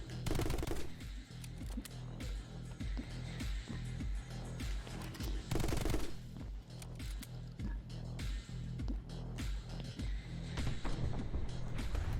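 Rapid gunfire in the action video game My Friend Pedro, with dense repeated shots over a thumping music beat, loud and continuous throughout.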